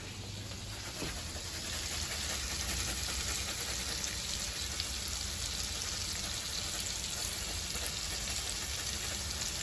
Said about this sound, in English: You hear that? That is a hot pan.